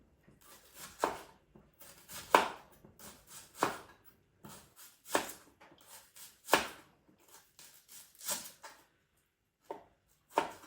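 A knife chopping broccoli and onion on a board in a home kitchen, making a series of irregular, close, sharp cuts in short bursts with brief pauses between them.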